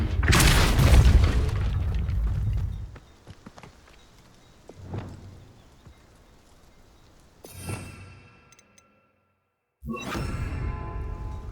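Depulso force spell blasts from the Hogwarts Legacy video game: a loud, broad whooshing burst up front, then a few softer thumps and a short hiss, a moment of silence, and another strong blast near the end.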